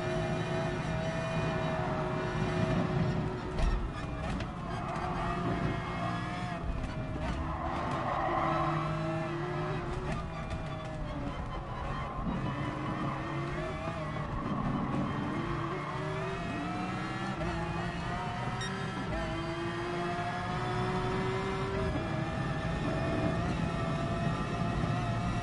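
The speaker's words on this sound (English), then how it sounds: "Damn, this Porsche is slow." A Porsche race car in GT Sport on the Nürburgring 24h layout, its engine droning and revving continuously over a long stretch with shifting pitch, along with tire squeal and the sound of other cars nearby.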